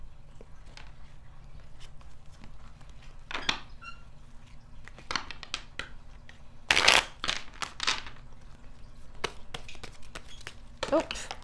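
Tarot cards are shuffled in short, separate riffling bursts with quiet gaps between them, close and fairly soft against a low background hum.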